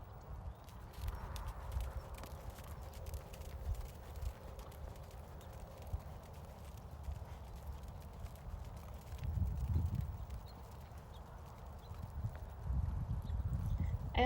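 Standardbred horse, a former harness racer, moving in steady clip-clop hoofbeats on ground while turning, soft and close with a low rumble underneath and no voices.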